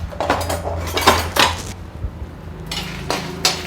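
Asafoetida, fenugreek and seven dried red chillies are dry roasted in a pan, heard as close metallic scraping and clinking of a spoon stirring against the pan, in irregular bursts with brief pauses.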